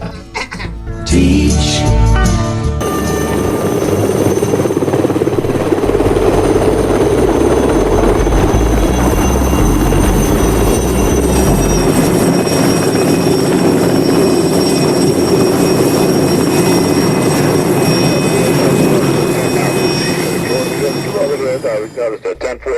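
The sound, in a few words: helicopter flying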